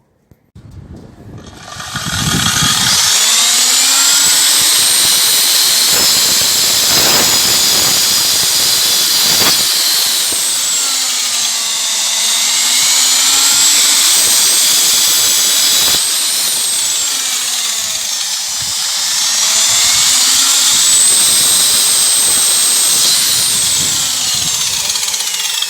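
A 230 mm angle grinder fitted with a wood-cutting disc bites into a wooden formwork plank, a loud, continuous high-pitched whine and rasp that rises and dips as the cut progresses, preceded by a brief spin-up.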